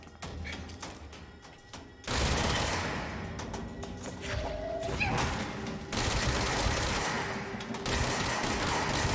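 Short controlled bursts of gunfire in the video game Control, loud repeated volleys over constant dense game noise with no talk.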